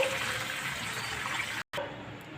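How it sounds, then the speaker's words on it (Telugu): Water pours steadily into a cooking pan for vermicelli upma, a continuous broadband rush of liquid that holds at an even level before cutting out briefly near the end. "ఒక గ్లాస్ సేమియా పుల్లకి 2 గ్లాసులు వాటర్ వేస్తాను"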